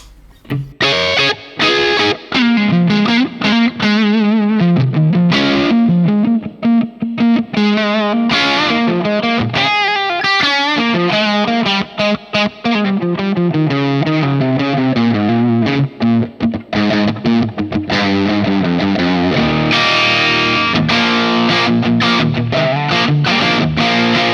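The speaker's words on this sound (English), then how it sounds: "Let's add some reverb to it." Distorted electric guitar through a Hotone Ampero 2 modelling a ROOTS RA-2230 amp plays a flowing melodic line with chords, drenched in reverb so the notes ring out and blur together, loud and close throughout.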